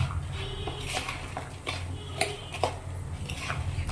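Bhel chaat is tossed and stirred in a bowl, giving soft rustling and scattered light clinks of a spoon against the bowl, close and moderately quiet.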